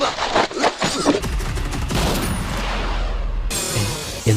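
Gunfire from a scene in the Malayalam action film Martin: a dense volley of shots and impacts at the start, then a sustained loud roar of bursts and rumble, with an abrupt cut near the end.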